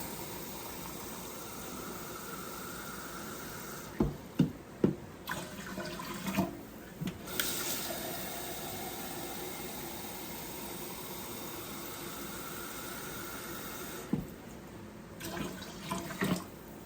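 Tap water runs steadily into a measuring cup at a kitchen sink while pickling brine is made, making a faint continuous splashing with a few louder knocks and clinks of the cup partway through.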